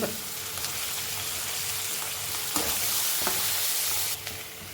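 Onions frying in a pan for chicken gravy, a continuous close sizzle with a few scraping stirs of a spoon.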